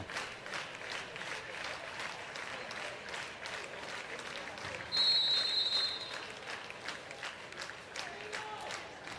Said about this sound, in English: As the crowd gets on their feet, clapping their hands to start this championship game.